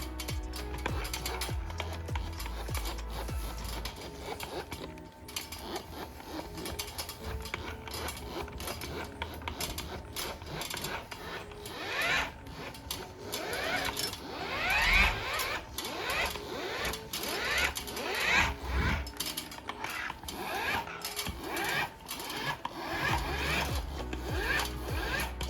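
Polishing buffer running at high speed, working compound across the oxidized surface of a Casita travel trailer, a continuous whirring and rubbing drone with uneven scuffs and surges as the pad moves.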